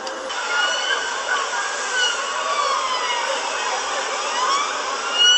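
A wailing emergency siren rises and falls continuously in the distance, steady and fairly loud, with a low street hum beneath it.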